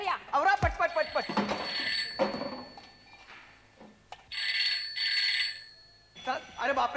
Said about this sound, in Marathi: अरे बापरे फोन वाजते